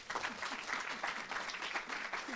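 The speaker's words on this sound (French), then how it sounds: "Sous vos applaudissements, mesdames," Audience applause at a Paris science summit talk, an even, moderately distant patter of many hands that runs throughout the short stretch, with a faint voice beneath it.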